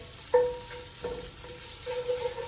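Finely chopped bacon fries in a pan, a steady soft sizzle with a few brief scrapes or stirs, close and moderately quiet, no voices.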